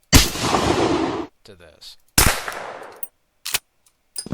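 Video game gunfire alternating between loud unsuppressed shots and quieter suppressed ones: a long booming report with a reverberant tail, a fainter muffled burst, another loud shot, then short sharp suppressed pops.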